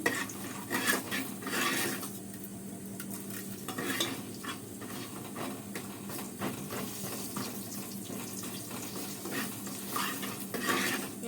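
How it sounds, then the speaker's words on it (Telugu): Onions fry in a pan while being stirred, a soft sizzle beneath repeated scraping and light utensil clinks spread over several seconds, with no talking. "ఉల్లిపాయలు అయితే బాగా వేగిపోవాలి"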